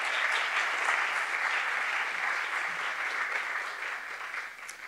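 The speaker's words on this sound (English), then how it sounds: "Please, one more round of applause for Ia Kiva." An audience applauds poet Ia Kiva at an international poetry evening, a continuous wash of clapping that holds steady and then fades gently.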